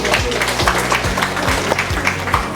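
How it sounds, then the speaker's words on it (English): A crowd at a Nurses Week program gives steady applause, continuous and moderately loud throughout, with a faint murmur of voices underneath. "Let's give them all a round of applause."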